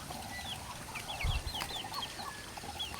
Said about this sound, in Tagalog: Ano naman yung mga manok ko?